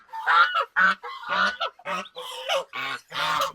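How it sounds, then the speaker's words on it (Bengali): Male goose honking while charging to attack, a rapid series of about eight harsh, nasal honks in close succession, loud and near, with no talk over it. "ছেলে রাজহাঁসটা হচ্ছে তেড়ে আসতেছে মারার জন্য।"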